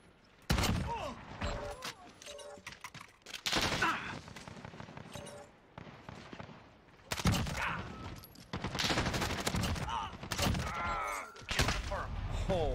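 Rapid gunfire bursts and single shots in the Warzone video game, loud clustered volleys separated by short quieter gaps, with voices talking at times between and over the shooting.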